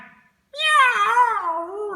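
A single long, wavering cat meow rises and falls in pitch, loud and close, after a brief moment of silence.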